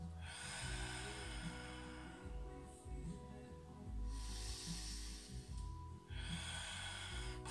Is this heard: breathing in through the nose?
yes